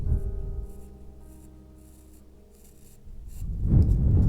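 A knife shaves and scrapes a squared wooden block into a carving, with short dry rasping strokes close by, ending in a heavier, louder stretch of cutting.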